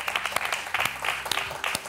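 Studio audience applause on a Spanish television show, a short burst of scattered, moderately loud hand claps with a voice speaking over it.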